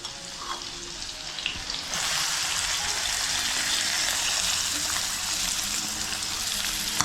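Onion sizzles loudly in a hot pan, the frying hiss jumping up as it is added and then holding steady.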